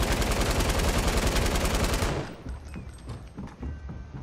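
In Fortnite, a burst of fast, loud automatic gunfire fires through a wooden floor for about two seconds, followed by a few sparser, quieter shots and scattered clatter.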